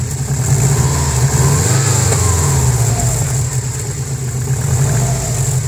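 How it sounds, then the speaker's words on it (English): A 1993 Subaru Legacy twin-turbo engine revs steadily up close, a continuous loud, throaty drone with slight rises and falls in pitch, no one speaking. "I'm not trying to piss off the neighbors, I just want to hear the engine"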